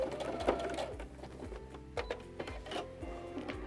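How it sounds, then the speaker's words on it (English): A sewing machine top-stitches a fabric border onto a kitchen towel, running in short bursts of rapid mechanical chatter with brief pauses between, close and moderately loud. "We're attaching it at the top via this top stitch."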